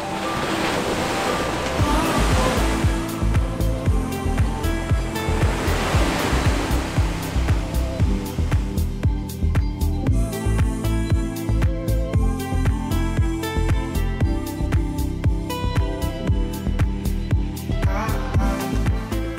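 Ocean surf rolls onto the beach at Manuel Antonio in Costa Rica, a loud continuous wash of breaking waves with wind buffeting the microphone, and no voices.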